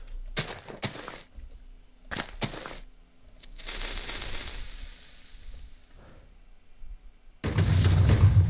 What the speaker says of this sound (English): For some reason, the TNT in this version is actually pretty strong.